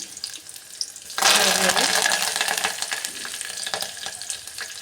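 Cumin, mustard seeds, dry chillies and garlic tempering in hot oil for a Kannada-style sambar, a sudden loud, dense sizzle bursting in after a quiet start and crackling steadily on, close and unbroken, with no voices.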